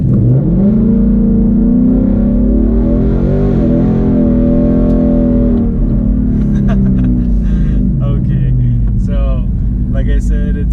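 A 2017 Ford Mustang GT in sport mode launches hard from a standstill on a wet road, its engine revving in rising sweeps through paddle-shifted gears, loud and close with a voice talking over it.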